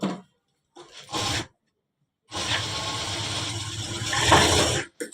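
A sewing machine stitches a shirt pocket in short bursts: a brief whir, a pause, another short run, then a longer steady mechanical stitching run before it stops.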